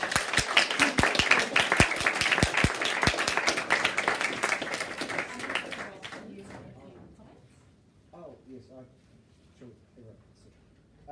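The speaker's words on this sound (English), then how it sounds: "Can we all give a big round of applause for our companions?" An audience at a university law society moot court demonstration applauds in dense, steady clapping that tapers off after about six seconds, leaving a quieter room where someone talks.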